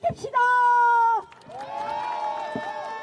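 Crowd at an outdoor election rally for a district mayor by-election at a busy intersection, cheering with whoops and shouts, a loud burst at first, then a sustained, slightly quieter roar of voices.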